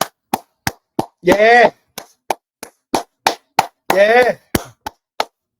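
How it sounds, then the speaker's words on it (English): Celebratory hand clapping for the Minnesota Vikings after their win over the Houston Texans: a steady run of sharp, close claps, broken twice by a man's brief spoken exclamations. "Clap it up for your Minnesota Vikings"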